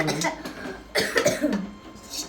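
Coughing up close in a home kitchen while pasta is cooked, a few rough, breathy bursts mixed with nearby talking.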